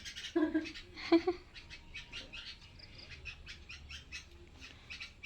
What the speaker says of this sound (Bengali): আর একটা পাখি ঝগড়া করতে এসছে